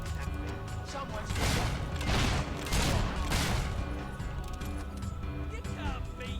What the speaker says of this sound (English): You keep shooting at me.